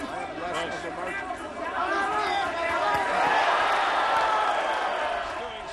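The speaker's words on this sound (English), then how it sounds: "He's doing some work, getting the cheers from the crowd." A crowd at the Juan Manuel Marquez vs. Terdsak Jandaeng WBO featherweight title boxing match cheers and murmurs, swelling midway and staying as steady arena noise beneath continuous commentary.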